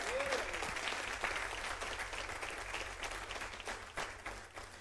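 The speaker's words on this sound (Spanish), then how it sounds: "Dele palmas al Señor" A church congregation claps together during a Bible study on Exodus, a steady, even roar of many hands, fairly faint and distant, with a low hum running beneath.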